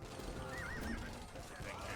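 A charging paladin horse in an Age of Empires II 4v4 match on Black Forest gives a short, faint whinny amid clip-clop hooves and battle noise, under a caster's commentary.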